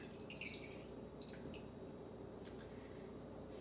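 Liquid drains from cooking ingredients in a home kitchen: a faint, steady trickling hiss with a few soft drips scattered throughout, close and quiet, with no talking.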